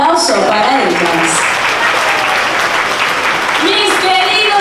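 An audience at an aquarium sea lion show in Mazatlán claps continuously, a dense, loud wash of applause under an amplified presenter's voice speaking throughout.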